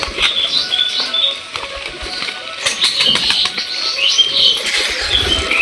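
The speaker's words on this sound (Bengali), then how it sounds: "দেখতে পাচ্ছ সব কবুতরগুলো নামে যাচ্ছে।" Pigeons coming down to the ground after release to feed, with scattered wing flaps and light chirps over steady outdoor background noise.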